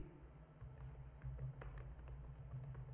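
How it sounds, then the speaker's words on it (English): Soft keystrokes on a computer keyboard tap out irregularly while a cell in an Excel spreadsheet is filled in, faint and close over a low steady hum, with no talking. "So here we will type please"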